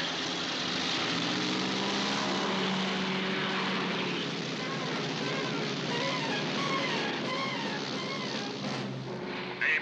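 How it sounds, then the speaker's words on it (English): Cargo plane engines drone steadily from inside the cabin at takeoff, a dense broadband roar with a low propeller hum holding for the whole stretch. "We're inside a cargo plane. And it sounds like we're about to go somewhere."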